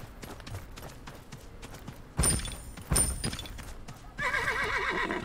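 A horse whinnies loudly twice, then hooves clip-clop along with a rattling mechanical layer, all sounding game-like and close, from Realm Royale on Nintendo Switch.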